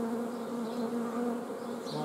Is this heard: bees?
yes